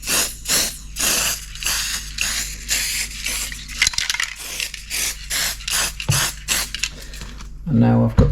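A spray can is used on model railway scenery, giving repeated short hissing bursts in a steady rhythm, close and fairly loud, with a brief voice at the end.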